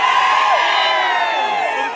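Shiv Sena (Shinde faction) supporters celebrate winning the Dudhani municipal council in Solapur with a loud, dense crowd roar of overlapping shouts and high whoops, held steady and close for two seconds.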